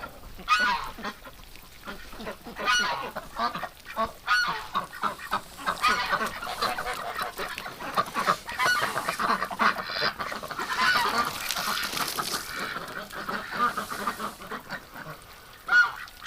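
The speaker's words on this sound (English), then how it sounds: "These ducks need to get out seriously and play in the yard." Several ducks penned in a dirty enclosure, honking and quacking almost continuously in a busy, overlapping chorus heard close by.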